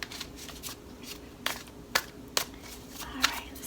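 Tarot cards being shuffled by hand, a few quick riffling bursts and soft slaps separated by short pauses, close and fairly quiet with no talking.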